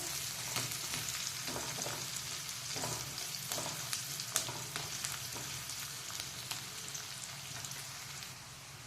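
Onions frying in a hot oil tempering for an aloo palak dish, a soft continuous sizzle and crackle close by with occasional stirring taps, no talk.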